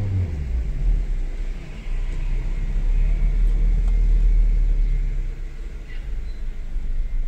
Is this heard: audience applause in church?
no